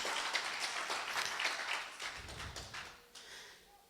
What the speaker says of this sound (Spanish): Dele un fuerte aplauso al Rey entonces.